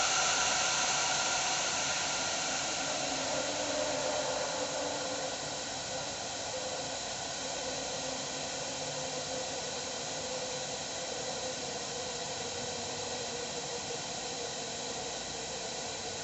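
A truck's air brake system hisses steadily as the parking and trailer brakes are released, a continuous broadband rush of escaping air that stays loud and even throughout.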